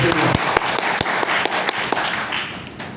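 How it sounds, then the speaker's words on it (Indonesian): An audience at a closing talk breaks into applause, a short burst of sharp, loud clapping that thins out within a few seconds. "Tepuk tangan buat Anda semua."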